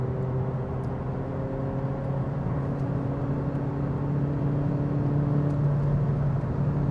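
A 2016 VW Passat 1.6 TDI with DSG gearbox at full throttle, a steady close engine drone with rising tonal whine from inside the cabin, no gaps, no talk.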